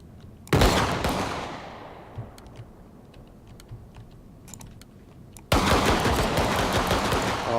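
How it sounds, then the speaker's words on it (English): Pistol shots ring out in a video game deathmatch: two loud, sharp blasts several seconds apart, each trailing off in a long fading decay. Faint keyboard clicks tick between them. "Oh, pistol sniping time."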